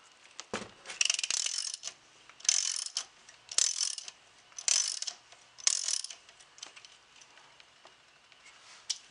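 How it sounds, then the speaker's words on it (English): A bolt is run into freshly cut tapped threads during a motor replacement, giving a series of about six rhythmic ratcheting bursts with short pauses between them, fairly quiet and close. "So I'm going to run the bolt in now, and it is good and tight"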